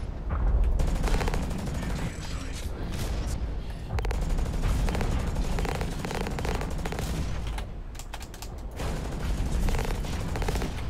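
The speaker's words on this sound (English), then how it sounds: "Ow, stop shooting at me from over there." Rapid automatic gunfire and explosive bursts from mech combat in the video game Hawken, loud and near, running almost continuously with brief lulls, a voice breaking through now and then.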